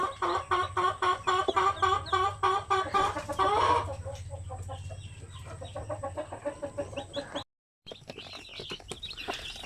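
A native Basilan/Zampen chicken hen with about eleven chicks clucks in rapid rhythmic bursts close by, softer clucking and peeping following, with a short gap before faint sounds resume.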